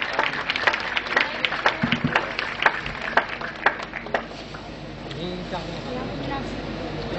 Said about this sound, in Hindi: जोरदार तालियों से आप भी अभिनंदन करें।